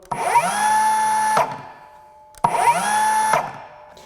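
A Metabo HPT C1807DAQ4 18V MultiVolt 7-1/4-inch cordless circular saw in silent mode spins up twice, each run a steady whining tone lasting over a second before winding down, close and free of talk.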